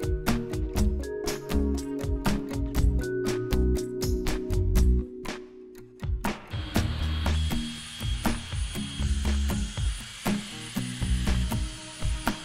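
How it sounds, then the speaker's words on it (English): An abrasive grinder working across the rusty metal floor of a school bus being converted to a skoolie, loud and close, with harsh buzzing and rattling strokes that shift to a brighter, rougher grind partway through. "Now I'm ready to start grinding the floor so that I can get it ready for the rust treatment"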